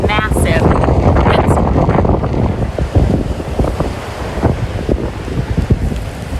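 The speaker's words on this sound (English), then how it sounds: "a look at the beach and the waves, with me trying to hold the camera steady despite the wind" Strong windstorm gusting over waves breaking on Porthcurno Beach in Cornwall, loud buffeting wind noise on the microphone over continuous surf, with a voice talking intermittently.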